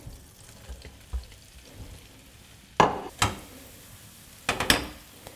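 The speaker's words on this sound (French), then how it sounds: "Une fois notre beurre bien mousseux, on dispose nos croûtons." Croutons dropped into foaming butter in a frying pan, soft steady sizzling broken by a few sharp crackling bursts as pieces hit the hot fat.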